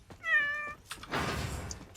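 A cat gives one clear, tonal meow close by, followed by a soft thump and a short rustling scrape.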